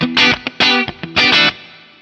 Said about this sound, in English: adding a subtle lift here can really bring out pick attack